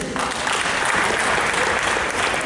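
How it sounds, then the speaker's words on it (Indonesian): An audience at an Indonesian education seminar claps loudly and steadily in a thick, continuous wash of applause, with no one talking over it. "3 kali tepuk."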